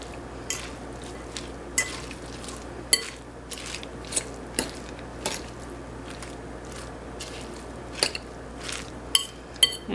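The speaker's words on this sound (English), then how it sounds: "the easiest way to stir the salad is to use just a regular fork" A regular fork stirs a cabbage salad, giving irregular clicks and taps against the bowl with soft squishy rustles between them, close and fairly quiet, no talking.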